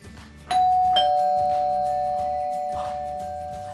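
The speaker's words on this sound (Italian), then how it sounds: "Suona il campanello." An electronic doorbell rings clearly indoors with two ding tones in quick succession, the second tone ringing out and slowly fading over a few seconds, with faint background noise and no talking.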